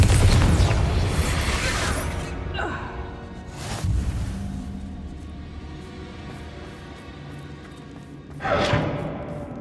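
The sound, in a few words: Confringo explosive spell in Hogwarts Legacy, from a video game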